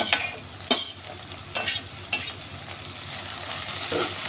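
Tomato pieces go into a pan of frying okra and are stirred, with a steady sizzle broken by several sharp spoon scrapes against the pan.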